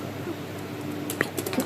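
Computer keyboard keys are tapped near the end, a few light clicks over a steady room hum at a desktop PC.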